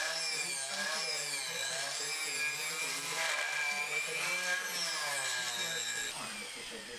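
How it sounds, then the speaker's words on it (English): An electric die grinder fitted with a large carving burr enlarging a through hole in wood, a steady high whine with wavering pitch as the burr cuts, close and continuous, easing off near the end. "And now expand the hole using an electric die grinder with a large carving burr."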